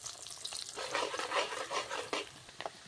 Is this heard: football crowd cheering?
no